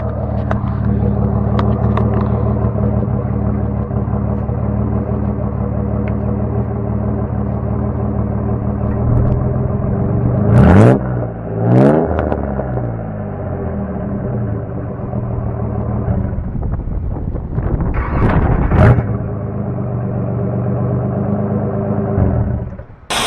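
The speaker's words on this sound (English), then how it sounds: "I'll give you guys one little rev, maybe a couple" An engine with muffler and catalytic converter deleted idles with a deep, loud rumble, then revs sharply a couple of times, each rev rising and falling quickly, before settling back to a raw idle, with no talk.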